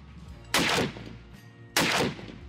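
An AK-50 rifle fires two heavy, booming shots about a second and a half apart, each one loud and close with a long ringing tail and no voices over it.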